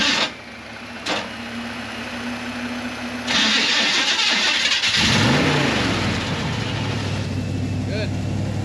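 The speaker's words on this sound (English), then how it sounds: "Hopefully we can get it boosted because he's been having some starting problems where it just doesn't want to start for him." A car with ongoing starting trouble, boosted from a Jeep, cranks briefly and then catches, its engine rising to a loud steady run and settling into a near idle, with no talk over it.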